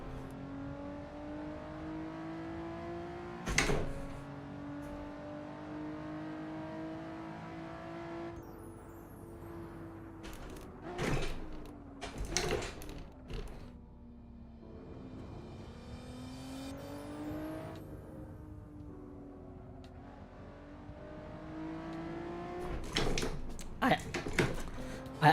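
Car engine in Assetto Corsa revving up and down through manual gear shifts, with rising and falling tone and sharp spikes at each change, while a person talks over it.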